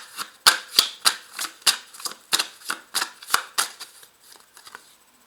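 Tarot cards are shuffled by hand in a close, steady run of crisp riffling snaps that gradually soften into lighter flicks before stopping.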